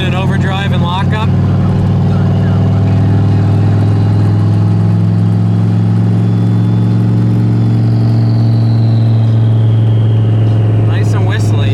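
A truck engine pulling in overdrive with a steady low drone and a rising turbo whistle, loud and close inside the cab, with a voice briefly over the start.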